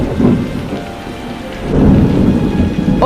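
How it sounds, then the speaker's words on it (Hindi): Rain starts falling with thunder, a steady close patter of drops on surfaces under a low rolling rumble that swells midway through. "बारिश शुरू हो गई"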